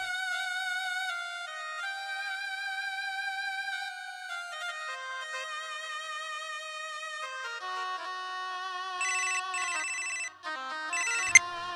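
A telephone rings on a call with a melodic electronic ringtone, a steady repeating tone pattern heard alone and loud, ending in a brief click.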